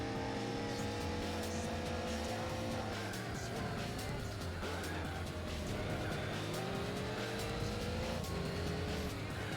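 A front-wheel-drive Zara race car in Gran Turismo 4 drones loudly and steadily, its engine note rising and falling through gear changes while tires squeal through corners.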